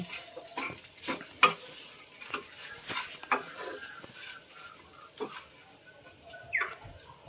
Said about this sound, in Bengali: এবারে দিচ্ছি আমি একটু চাট মশলা, দিচ্ছি ধনে পাতা, আবারও একটু ভালোভাবে মিক্স করে দেব।